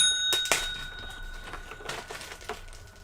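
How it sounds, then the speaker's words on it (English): A single bright bell ding rings out and lingers while soft clattering and handling noises continue nearby. "Everybody gets their bell ring."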